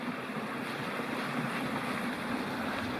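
Unnamed creek running into a river at Big South Fork, heard as a steady, broadband rush of flowing water with some wind buffeting, continuous and moderately faint with no voices.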